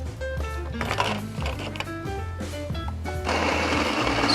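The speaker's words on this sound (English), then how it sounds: "you just want to grind the beans relatively coarse" A burr grinder grinds coffee beans to a coarse setting for French press, a loud, close mechanical whir and rattle that grows harsher and denser toward the end, with no talking.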